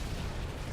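A grenade explosion in Halo 2 gives a short, dense burst of broadband rumble and noise, moderately loud and filling the whole brief moment, with no talk.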